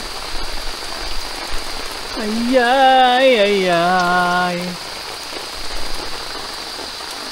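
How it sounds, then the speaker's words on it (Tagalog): Heavy rain patters steadily on a surface throughout at an overnight campsite, with a man's drawn-out exclamations rising over it midway. "Itinudo pa yung ulan."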